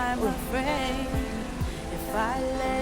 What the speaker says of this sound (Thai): ตอนนี้ฝนตกแล้วเดี๋ยวค่อยทำต่อค่ะ